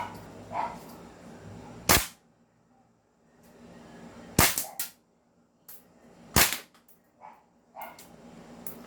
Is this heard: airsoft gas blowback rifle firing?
yes